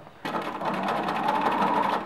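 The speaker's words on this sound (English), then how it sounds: "and then I'm going to continue sewing" Close, steady whir of a sewing machine running a straight stitch with polyester thread along a knit T-shirt V-neck neckband, starting abruptly after a brief quiet and continuing without pause.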